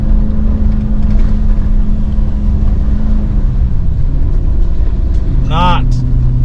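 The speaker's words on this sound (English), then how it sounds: "pulling a big old trailer through here is exciting" A truck towing a big trailer along a narrow wooded path gives off a steady low engine rumble throughout, with a brief voice near the end.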